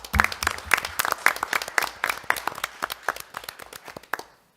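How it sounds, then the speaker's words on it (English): Audience applause at a college board of trustees meeting: a few close, distinct hand claps forming a modest round that thins out and stops after a few seconds. "Let's give them a well-deserved round of applause."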